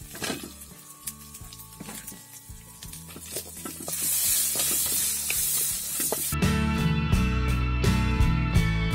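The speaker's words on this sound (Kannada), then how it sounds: "1 ಈರುಳ್ಳಿ ಫ್ರೈ ಮಾಡಲಿಕ್ಕೆ ಹಾಕ್ತಿದ್ದೀನಿ" Onion frying in a pan for chicken sukka, steady sizzle with stirring scrapes; the sizzle grows louder and denser partway through while music plays along underneath.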